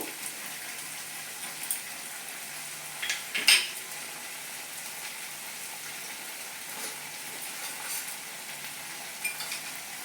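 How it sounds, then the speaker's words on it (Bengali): Ground spices with salt, Kashmiri chilli, coriander and cumin sizzle in a pan for a paneer dish, a steady close hiss with a single louder clink of the spoon near the start and a few light scrapes later. "আর এক টেবিল চামচ চিনি দিয়ে আমি এবার এই মশলাটাকে ভালো করে একটু কষিয়ে নেব"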